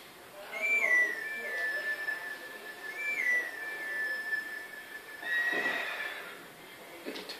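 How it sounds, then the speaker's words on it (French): In Zelda: Twilight Princess, a clear, pure melody is whistled on a grass plant for the horse, heard as several short rising-and-falling phrases. A horse whinnies and hooves clop softly beneath. "Tu veux bien cueillir l'une de ces plantes et siffler un air pour Epona?"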